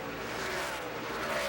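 Stock cars racing at Dover in the 2011 AAA 400, engines roaring steadily as cars slide through the corners in the final laps, a continuous loud drone of several cars at once.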